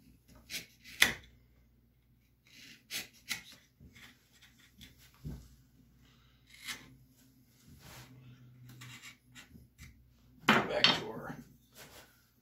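Chisel paring across the grain of a wooden bass guitar body during a fretless PJ bass build: a string of sharp scraping, knocking cuts in short bursts, close and fairly loud, with one longer rasping stroke near the end.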